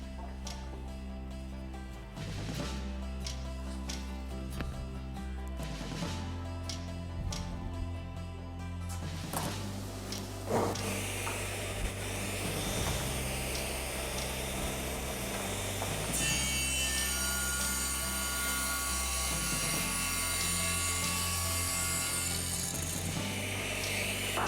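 Table saw ripping hardwood strips about two inches wide for an end grain cutting board, a steady loud whine with the blade loading and easing as each piece feeds through, a steady machine hum underneath.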